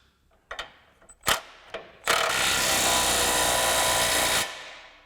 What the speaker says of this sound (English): if we want to go right up, we'll go back to level 3